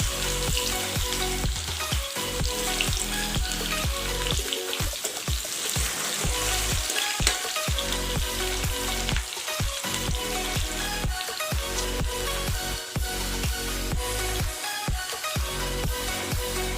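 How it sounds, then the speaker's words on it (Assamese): Onion, ginger and garlic sizzle and crackle steadily in hot oil, a dense continuous frying hiss close up with faint scraping, no voices present. "পূৰা তেলটো গৰম হৈ গ'ল। এতিয়া দিব লাগিব পিঁয়াজ, লগত দিছোঁ আদা নহৰু।"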